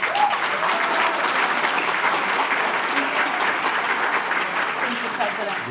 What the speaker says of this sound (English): give a warm round of applause to State Representative Delia